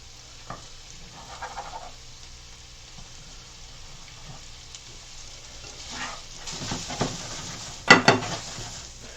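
Meat sizzles in a pan for sawmill gravy, a soft steady frying hiss broken by stirring scrapes and a few louder clinks of utensil against the pan.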